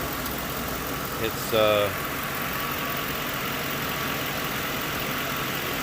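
A Lincoln Town Car engine idles with a steady low rumble throughout after a power steering job, and someone briefly speaks over it.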